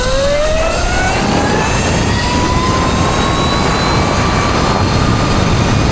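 Electric mini moto e-bike on a speed run, its high motor whine climbing steadily in pitch over a loud, constant rush of wind and road noise, with no voices.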